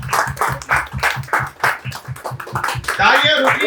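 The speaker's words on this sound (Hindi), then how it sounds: "तो तालियों के अभिनंदन के साथ उनको इनवाइट किया जाए।" An audience claps rhythmically to welcome a speaker onto the stage at a wellness company event, with a voice talking over the steady applause and a few chuckles near the end.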